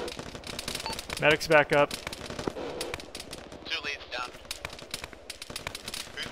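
Automatic and rifle gunfire in the Arma military shooter during a ShackTac squad session: rapid bursts and single shots crackle at middle distance, with several loud volleys, under radio chatter from players talking throughout.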